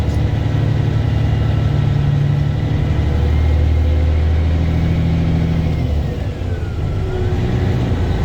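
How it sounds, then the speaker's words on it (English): A pickup truck hauling a long grain trailer pulls out of a wide farm driveway near Rock Rapids on a cool day, its engine a steady close rumble that shifts and eases off partway through, with no talking. "I have a nice wide driveway here for my truck and my long grain trailer, and there's nobody coming, so I'm going to pull out"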